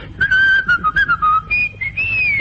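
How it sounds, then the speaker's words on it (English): A person whistles a happy tune, a short bright melody of quick clipped notes sliding into longer held tones, close and clear with nothing else around it. "I whistle a happy tune."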